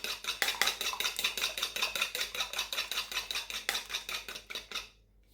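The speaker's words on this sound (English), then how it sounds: "we've got 1 egg, which we're going to whisk" Fork or whisk beating a single egg in a bowl for a cheese straw dough, a fast steady run of bright clicking taps close by, ending abruptly near the end.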